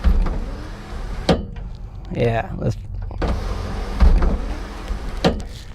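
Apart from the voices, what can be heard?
power sunroof motor running on a 1995 Mitsubishi Eclipse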